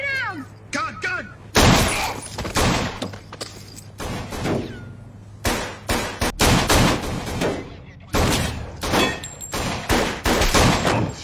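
Gunfire in a dramatized shootout, several loud sharp bursts and single cracks spread across the scene, mixed with shouted commands and other voices.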